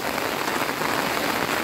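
Heavy rain pours down at the Zabumbão reservoir dam, a dense, steady hiss of drops striking surfaces with no pause and no voices.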